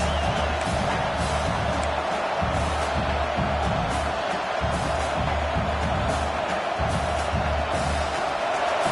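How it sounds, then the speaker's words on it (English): Loud, sustained crowd roar filling a stadium during a fourth-down play at an Oregon Ducks football game, a dense wall of cheering and noise that holds steady throughout with no clear breaks. "This crowd bringing serious noise on this huge fourth down play."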